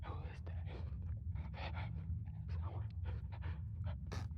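A zombie dog panting in the horror game Penumbra: Overture, set in an abandoned mine: steady rapid breathy pants over a low rumbling background, moderately close and continuous.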